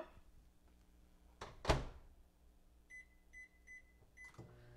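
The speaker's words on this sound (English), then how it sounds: "So I'm going to pop this in the microwave." A microwave oven door shuts with a solid thunk, then a short run of electronic beeps sounds as the oven is started, followed by the low hum of it running, close up in a quiet kitchen.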